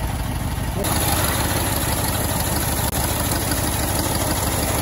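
A 1925 Ford station wagon's four-cylinder, 20-horsepower engine idles close by with a steady, even running note throughout, and a voice talks over it.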